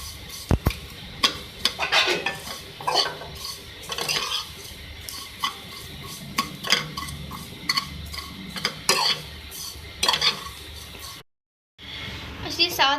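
Vermicelli frying in ghee in a pan: a low sizzle under frequent clinks and scrapes of a utensil against the pan, a brief silent gap near the end, with a voice speaking over parts of it.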